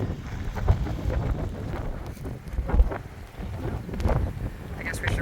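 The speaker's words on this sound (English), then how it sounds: "holy freaking crap, it is windy and I cannot see" Strong wind of an incoming dusty storm in a video game, a steady broadband rush with gusting swells that stays loud throughout.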